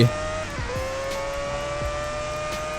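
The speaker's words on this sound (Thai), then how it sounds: "เหยียบคันเร่งทีแล้วล้อจะฟรีอย่างเดียวเลย" An F1 car in a racing video game accelerates with rear-wheel-drive wheelspin, a steady high engine whine with rising tonal sweeps and some skidding, continuous and close.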